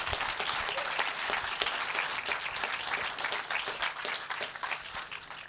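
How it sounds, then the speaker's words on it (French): Audience applause at a ceremony for Laetitia, a thick, even wash of many hands clapping, steady throughout with slight swells and a small easing near the end. "tonnerre d'applaudissements pour Laetitia"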